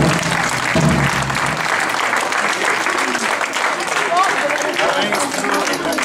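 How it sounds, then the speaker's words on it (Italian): Sustained audience applause at a school event in Andrano, Italy, loud and continuous clapping from a crowd, with some voices mixed in near the start. "ho detto fatevi un applauso"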